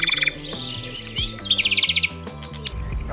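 A nightingale sings a quick run of bright, varied chirps and trills, close and clear, with a lower rhythmic warble beneath and no voices.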